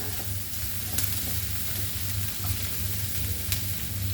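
Steady sizzle of pork frying in hot oil with garlic and ginger for Goan pork chilli fry, a close, even crackle with faint stirring clicks and occasional pops.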